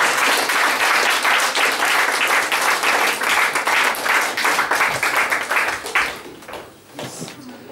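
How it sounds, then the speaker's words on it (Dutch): Worship-night congregation applauding in a dense, steady wash of clapping that fades out near the end, with a voice appearing as it dies down. "En een applaus voor de Heer."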